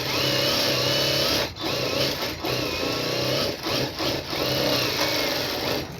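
An electric sewing machine stitching blouse lining runs in a fast steady whir, loud and close, broken by several brief stops and restarts.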